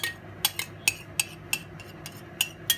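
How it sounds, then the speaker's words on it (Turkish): A spoon stirring yogurt with other ingredients in a bowl for a broad bean soup, several sharp metallic clinks against the bowl at an uneven rhythm over a quiet background. "Yoğurdumuzu da kattıktan sonra bir kaşık yardımıyla malzemelerimizi karıştırıyoruz"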